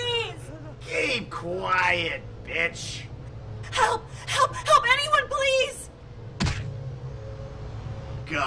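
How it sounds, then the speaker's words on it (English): A woman character in the video game Vampire: The Masquerade – Bloodlines cries out in a series of gasping, wailing screams and moans, close and loud, broken by a single thud. "She can keep screaming, though. I like it when they scream."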